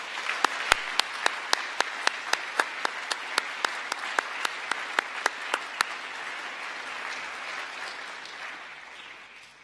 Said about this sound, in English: Please hold your applause until the whole house is assembled on stage.